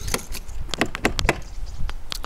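A key spins loosely in the seized, oil-treated door lock of a Citroën C6, giving a close, irregular series of sharp metallic clicks and rattles with brief pauses between them.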